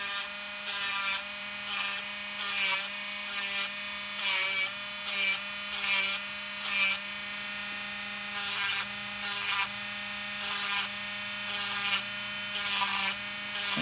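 Electric nail file smoothing a dip powder nail, a high steady whine swelling and easing in repeated short passes, close and fairly loud with no talking.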